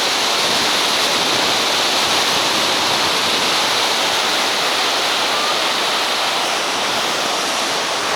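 Iguacu Falls in Brazil thunders up close, a steady, dense roar of massive falling water and spray that fills the air without pause or change.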